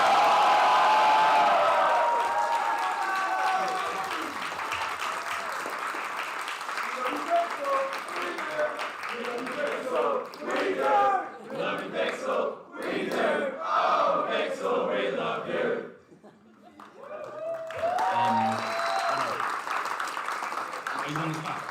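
A live crowd at a Splatoon 3 grand finals LAN tournament applauds and cheers, with sustained clapping, whoops and shouts swelling and dipping over twenty seconds while a host's voice comes through near the start and end.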